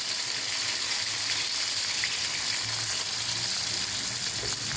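Petai bean skins fry in hot oil in a pan with a steady, dense, close sizzle that holds evenly throughout, with no voices.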